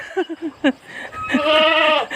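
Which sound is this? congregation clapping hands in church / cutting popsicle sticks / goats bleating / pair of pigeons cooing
goats bleating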